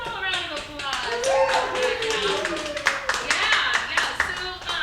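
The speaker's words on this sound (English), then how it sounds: "let's give them all a round of applause." Scattered clapping from a small improv comedy audience, fairly light and steady, with cheering voices mixed in.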